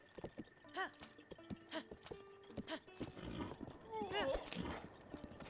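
A horse in the video game Breath of the Wild gives several rhythmic clip-clops of hooves and a couple of whinnies, with the game's ambient sounds around them. Moderate level, no speech over it.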